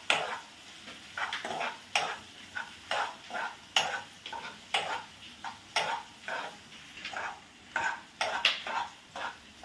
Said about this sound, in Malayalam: ഓ ഉള്ളി ഇളക്കി കൊടുക്കുന്നുണ്ട് കേട്ടോ.